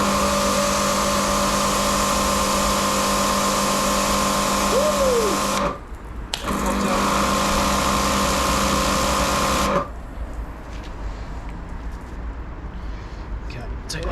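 A Karcher pressure washer fitted with its 3-in-1 nozzle runs as a loud, steady motorized drone. It stops briefly around the six-second mark, resumes, then cuts out near ten seconds, leaving quieter background noise.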